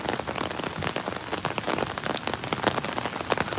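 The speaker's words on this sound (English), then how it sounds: "it's actually pretty heavy rain right now" Heavy rain pouring in Parque El Poblado, Medellin, a loud, dense hiss of drops striking surfaces, steady and close throughout.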